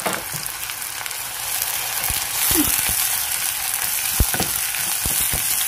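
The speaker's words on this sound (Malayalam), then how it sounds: "ഞാനൊരു 3-4 പച്ചമുളക് ഇട്ട് കൊടുത്തിട്ടുണ്ട്. ഇനി നമുക്ക് ഇവനെ ഒന്ന് ഇളക്കി കൊടുക്കാം." Green chillies and onion sizzle in a hot pan for a potato masala, a steady crackling fry with scattered scraping knocks of a spoon stirring, close up and without talking.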